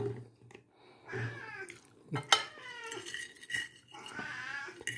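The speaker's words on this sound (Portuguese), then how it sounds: "Os gatos já estão. Já estão tentando aqui." Cats meow and caterwaul repeatedly near food at a lunch of rice with chicken and raisins, several close, insistent cries in quick succession, with quiet indoor sounds around them.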